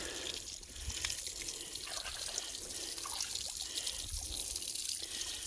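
Water from a hose trickles and splashes onto pigs on a farm, a faint, continuous watery patter with small irregular drips and splashes, heard alone without talk.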